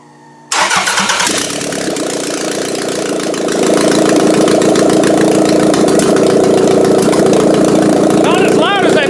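A 1999 Toyota Camry demolition derby car with no header cranks and fires up, then settles into a loud, raw, rumbling idle with a steady throb, close to the microphone.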